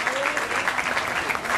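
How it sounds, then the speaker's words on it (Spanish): Applause from an audience at a community event during a gay pride march, a dense, steady wash of many hands clapping throughout, mid-distance, with a few voices mixed in. "Un fuerte aplauso por favor para Jaime."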